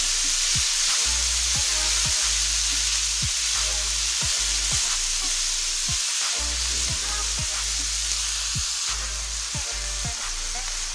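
Minced beef keema frying in a pan, a steady loud sizzle with repeated scraping and stirring strokes throughout.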